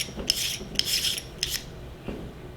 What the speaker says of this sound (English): Let's go ahead and unscrew this all the way out.